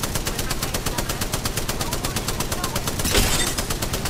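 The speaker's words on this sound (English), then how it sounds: "they're shooting at us right now" Rapid automatic weapon fire in the shooter game Apex Legends rattles in a steady, evenly spaced stream of loud shots, with a brief swell of extra noise near the end.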